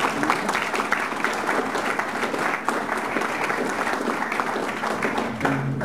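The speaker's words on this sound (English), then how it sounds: "Let's give Martin a big round of applause." A big round of audience applause for a presenter at a marketing talk, continuous many-handed clapping at even strength throughout, close and full.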